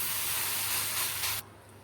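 Bread sandwich slices laid on a lightly oiled hot dosa tawa give a loud, steady sizzling hiss that cuts off sharply after about a second and a half, leaving a softer simmer.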